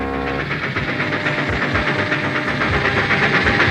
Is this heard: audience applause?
no